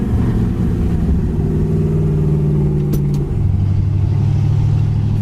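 A 1981 Pontiac Trans Am V8 with a B&M ratchet shifter revs hard after a downshift to first, a loud, close engine roar that holds steady, then briefly dips and settles to a lower drone.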